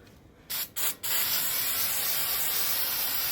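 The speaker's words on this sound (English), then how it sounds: "So now I'm gonna go use some brake cleaner." Brake cleaner sprays onto the transmission pan of a Nissan X-Trail T31 2.5L CVT. Two short hissing bursts come first, then one long continuous spray, loud and close, with no talking.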